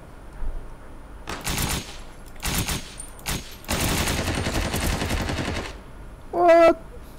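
Bursts of automatic gunfire in the battle royale video game Ring of Elysium, several rapid strings of shots, one long sustained volley, fairly close and loud, followed by a short distinct electronic tone near the end.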